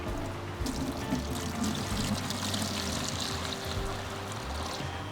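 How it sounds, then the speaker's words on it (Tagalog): Water pours slowly and steadily into an abalone incubation jar, a soft continuous trickle and splash close by. "dahan-dahan lang po natin siyang ibubuhos dito para hindi po uh, masaktan or ma-stress yung mga alaga natin"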